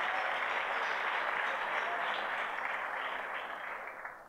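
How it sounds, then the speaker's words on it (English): Audience at a 2017 high school sports awards ceremony applauds scholarship athletes, a steady dense wash of clapping from many hands that holds strong, then gradually thins and fades near the end. "Nice round of applause for all of these"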